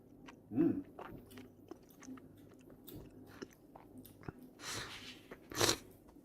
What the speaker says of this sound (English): He's slurping the tiniest noodle.